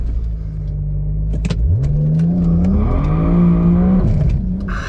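A BMW E92 335i with the N54 engine idles, then launches hard with extra throttle, its revs climbing in a rising whine through a gear change, loud and close.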